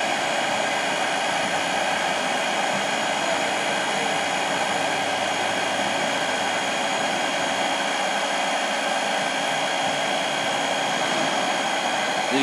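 An electric whisk whips Protium fluff in a continuous, steady, loud whirring drone with a dense mechanical hum that holds evenly throughout, with no talking.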